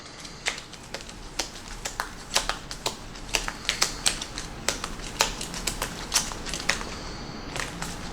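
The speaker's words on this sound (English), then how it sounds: "We're going to go ahead and get these shuffled here." A deck of game cards for a Warhammer Champions card game is shuffled, giving a steady run of sharp riffling clicks and snaps at close range, fairly quiet, with no talk.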